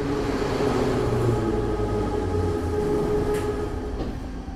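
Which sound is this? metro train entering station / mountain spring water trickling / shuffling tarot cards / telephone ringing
metro train entering station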